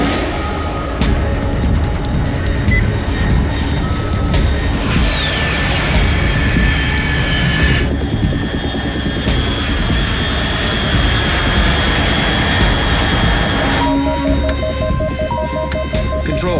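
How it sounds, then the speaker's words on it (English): A jet aircraft in Metal Gear Solid 3, a loud continuous roaring hum with a rising whine, steady tonal layers and a shift partway through, ending with electronic beeping, no talk. "Unidentified aircraft detected."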